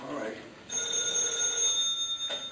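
An old-style telephone bell rings in a sustained, bright trill after a brief murmur at the start, loud and close in a studio radio-play setting.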